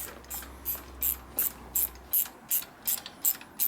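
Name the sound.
ratchet tightening on Harley shovelhead motor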